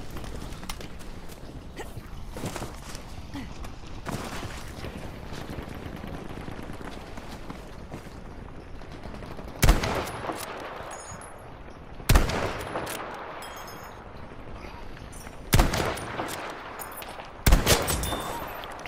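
Gunfire in a Firestorm video game match: sharp, loud shots crack out in four separated bursts over a steady background of game noise, with a few softer pops earlier on.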